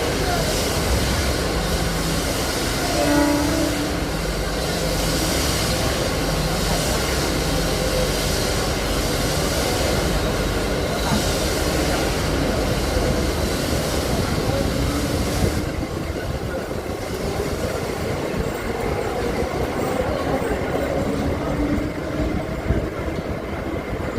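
A Mumbai slow local train from CSMT to Vashi rumbles along continuously from inside the carriage, a steady loud roar of wheels and motors with no clear breaks.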